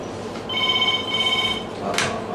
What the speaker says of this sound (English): I will try once more to take the phone call.